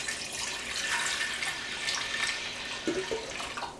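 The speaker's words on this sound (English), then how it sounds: "I'm going to pour our 5 cups of Concord grape juice into our pan" Concord grape juice pours steadily from a measuring cup into a pan for homemade grape jelly, a continuous splashing liquid stream with a brief gurgle near the end and no talk.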